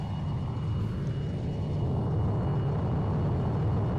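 Attack aircraft making a running-fire pass over a battlefield in the Armored Brigade 2 war game, heard as a steady, loud, low rumble that drones on without a break for the whole stretch.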